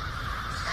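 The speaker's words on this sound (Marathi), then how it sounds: "मग ह्या कोलाहलामध्ये परत कावळ्यांचा कावकाव आवाज हा सुद्धा त्यात" An alarmed flock of crows caws harshly amid a noisy din, the calls blending into a dense, continuous clamor with no clear pauses.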